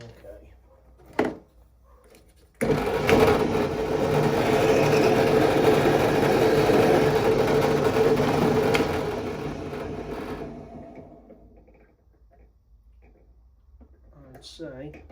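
A lathe turns down a metal part for a Cross RC model, a steady mechanical hum with a rough scraping texture lasting several seconds. It then winds down to near silence, with faint sounds before and after.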